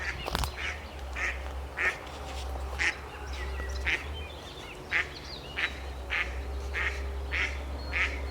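Ducks fly in to land on a pond, giving repeated loud quacks at a fairly steady rhythm over a constant low background rumble.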